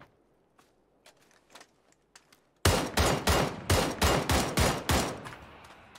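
Tommy gun firing in a video game: after a few faint clicks and steps, a loud, close burst of about a dozen rapid, evenly spaced shots runs for around three seconds.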